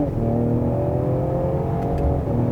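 A 2020 Ford Explorer ST revs with an enhanced synthetic engine sound, giving a steady, droning hum with a low growl that holds throughout at moderate volume and close range.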